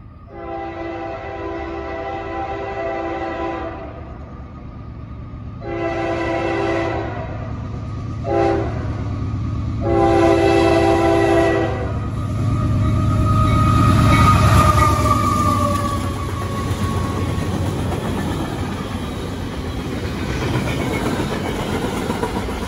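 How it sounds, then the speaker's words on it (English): A long freight train sounds its horn in two long blasts, a short one and a longer final blast, then rumbles past steadily with a low, continuous rolling roar that swells and holds. "This is a long train though,"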